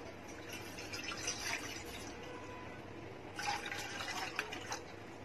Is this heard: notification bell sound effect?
no